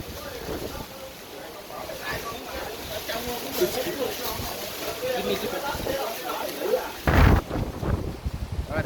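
A thunderstorm with rain and gusting wind buffets the microphone on Fansipan mountain in Vietnam, with a sharp burst of thunder or wind near the end, while people talk nearby.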